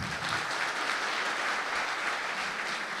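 Congregation clapping at a church worship night, a dense, even wash of applause from a full room, held steady for several seconds without speech.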